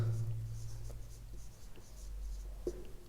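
Pen or chalk writing sounds for a class exercise come as faint scratchy strokes over a low steady hum, with speech-like murmur in the background.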